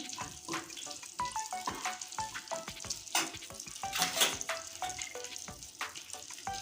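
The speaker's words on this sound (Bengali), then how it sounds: "আমি প্রথমে দিয়ে দিচ্ছি দুটো তেজপাতা দিয়ে দিচ্ছি" Two bay leaves crackle and sizzle in hot oil in a pan, with dense popping spatter and scattered sharp clicks from a spoon or utensil, steady and close throughout.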